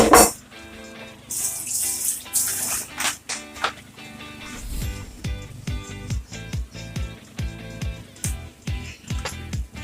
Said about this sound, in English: you pour off the hot water and just leave it in the sieve to dry up